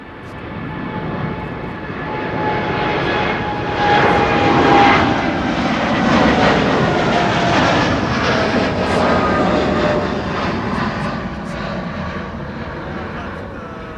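A fixed-wing airliner roars down Amsterdam Schiphol's runway 18 Left on takeoff, a broad sustained engine rumble swelling and holding loud at mid distance, with a voice talking faintly beneath.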